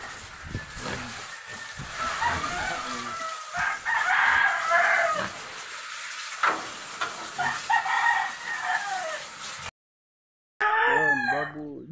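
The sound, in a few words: chicken rooster crowing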